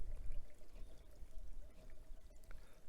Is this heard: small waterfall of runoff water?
yes